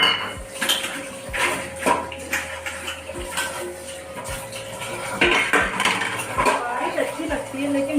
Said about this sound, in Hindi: बुरा काम लगता है मुझे बर्तन धोना